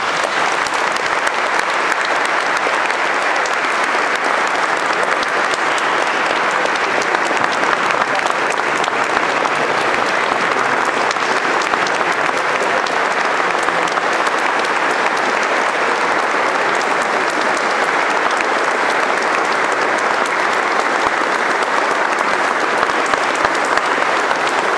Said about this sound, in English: I'm grateful for your applause.